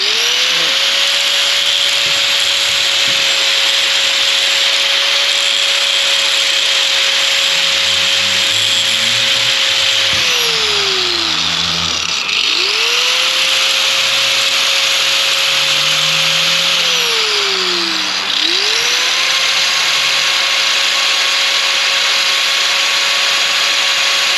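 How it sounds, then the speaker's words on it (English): A power tool grinding down metal on a SEAT Leon Cupra, a loud continuous high whine that drops and spins back up twice as pressure is applied, alone with no talking. "we're grinding down metal"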